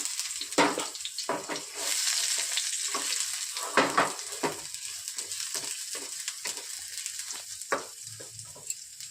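Chopped garlic fries in a pan for spinach paneer, giving a steady soft sizzle broken by bursts of louder crackle and spatter, with faint scraping between them and no talk.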